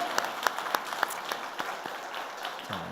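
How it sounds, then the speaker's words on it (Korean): Applause from a church congregation during an Easter service, a scattered, sparse clapping with a few distinct claps standing out against a soft background, fairly faint and fading toward the end. "여러분 그분에게 감사와 영광의 박수를 다시 한번 올려드렸으면 좋겠습니다."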